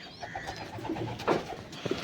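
Pigeons in a loft coo softly in repeated low, throaty calls while eating grain, several birds close by with faint rustling and background noise.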